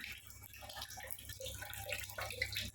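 Water pours steadily from an RO water filter outlet, a continuous close splashing and trickling flow with a low hum underneath and no talk.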